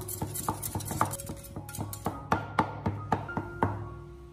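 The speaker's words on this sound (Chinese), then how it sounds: "再用刀将猪肉给它剁一下，将它剁成肉末" A kitchen knife chops raw pork into mince on a cutting board, a run of sharp rhythmic thuds at an uneven fast pace, close and clear with faint background tones.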